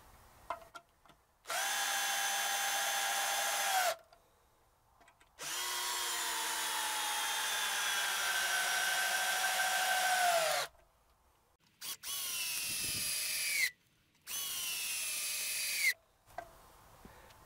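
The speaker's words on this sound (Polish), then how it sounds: "Tutaj musimy dać nawiercenie." Parkside and Niteo 12V cordless drills pre-drilling a hole outdoors, several separate whining motor runs of a few seconds each with short silences between them, close and steady in pitch.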